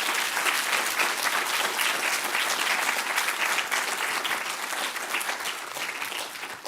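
An audience at a talk on Ukrainian history gives sustained, dense applause, close and even throughout, with no break in the clapping.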